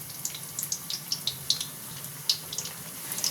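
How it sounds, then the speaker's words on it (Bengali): Flattened-rice and potato fritters fry gently in oil over a low flame, giving soft close bubbling with a scatter of light crackles and pops that come unevenly over a quiet background. "এটা ভাজা হোক"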